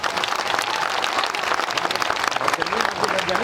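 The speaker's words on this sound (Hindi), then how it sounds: "तालियों की गड़गड़ाहट से" A crowd at an outdoor political gathering in Gwalior applauds, thick rapid clapping from many hands that stays loud and continuous throughout, with voices faintly mixed in.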